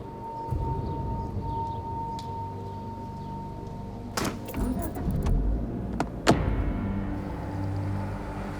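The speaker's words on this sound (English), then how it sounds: "All of a sudden, you can hear the truck start rolling backwards, and Elka almost goes under the wheel." A truck begins rolling backwards, a faint low rumble with a few scattered clanks and knocks and one sharper metallic click, heard at a distance in a quiet outdoor setting.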